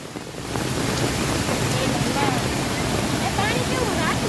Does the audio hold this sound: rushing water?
yes